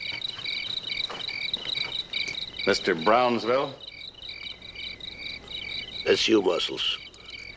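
Crickets chirp steadily and close in a high, pulsing trill that runs all the way through, with people talking over it twice.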